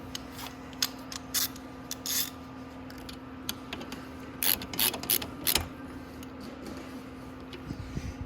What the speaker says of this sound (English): You just get your ratchet.